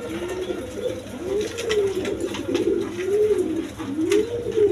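Several pigeons coo in a steady rolling rhythm, close and fairly loud, their repeated calls rising and falling with a black quality-bred breeding pair among them, with no talk over the calls.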